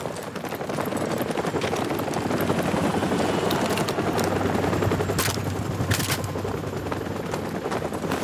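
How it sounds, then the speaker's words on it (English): A military helicopter in the video game Modern Warfare Remastered drones as a steady, loud rotor roar that fills the scene continuously, with a couple of brief sharp bursts cutting through near the end. "The helicopter's back."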